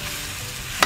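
Shark fish stir-fried in a hot pan until dry, a steady close sizzle with a spatula's sharp scrape near the end and no talking.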